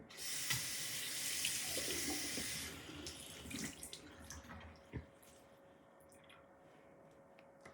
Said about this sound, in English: My sink is right here, and I'm going to wet the wig for you.